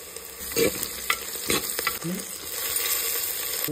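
Curry leaves, onions and chillies frying in oil in a pan, a close hiss of sizzling with a few sharp scraping stirs of a spoon, no speech.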